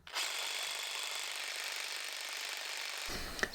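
A Festool Carvex jigsaw fitted with a fix for a wobbly blade runs a continuous close, buzzing cut for about three seconds, then stops abruptly.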